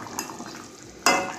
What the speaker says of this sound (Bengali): এবার আমি যে ভেজে রেখেছিলাম মাছগুলো সেই মাছটা আমি এখন দিয়ে দিচ্ছি।